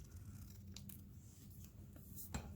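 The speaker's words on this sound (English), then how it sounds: "the best way to cut is to move the paper and not the scissors, I find." Scissors snip through paper in a few soft, quick cuts during fussy cutting for a press-on gift card pocket card, quiet and close with a faint background hum.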